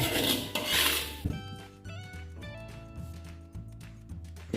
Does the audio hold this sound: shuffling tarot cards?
no